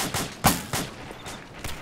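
Distant gunfire in Arma 2, a handful of separate shots or short cracks spaced irregularly, fairly faint with one sharper report among them.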